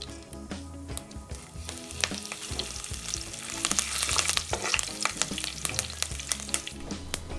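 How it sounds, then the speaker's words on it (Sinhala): Cardamom, cloves, cinnamon, mustard seeds and curry leaves tempering in hot oil for a village-style fish curry, a dense crackling sizzle with sharp popping spits throughout, close and fairly loud. "තෙල් රත් වෙනකොට එනසල් කීපයක්, උළුහල් තේ හැඳි භාගයක්, කුරුඳු කැබැල්ලක්, අබ තේ හැඳි භාගයක්, කරපිංච අහුරක් දාගෙන මේ ටික හොඳින් ටෙම්පරාදු කරගන්නවා."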